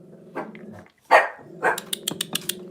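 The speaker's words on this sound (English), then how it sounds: "doesn't know what she's barking at" Dogs at a window bark several times in quick bursts, with a low growl between, close and loud against an otherwise quiet room.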